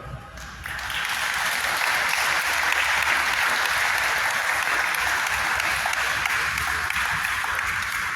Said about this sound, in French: nous allons mettre un grand applaudissement